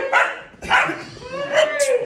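A large dog, alongside a Belgian Shepherd and a puppy, gives three short barks at close range, with whimpery tones between them.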